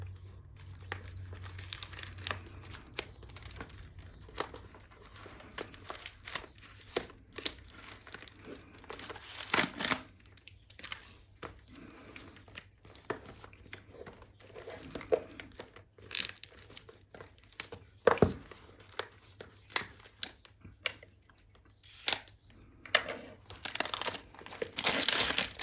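Cellophane wrapping torn and peeled off a Nintendo Switch game box, the Day One edition of Neptunia Game Maker R:Evolution: close, sporadic crinkling, crackling and tearing over a quiet room, with loud rustles in irregular bursts.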